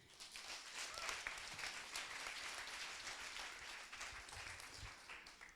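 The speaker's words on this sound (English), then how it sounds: "I would like to hear a huge round of applause for Orange one more time" A round of applause at a pitch night in Paris, sustained clapping from an audience that swells quickly and holds steady for several seconds, fairly distant and with no talk.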